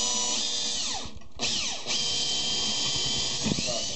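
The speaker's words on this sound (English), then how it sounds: "you're going to take it and drill it all the way through" Power drill boring through 2x4 lumber for a loft bed, a loud, close, continuous high whine with slight pitch dips as the bit bites into the wood, running nearly the whole time.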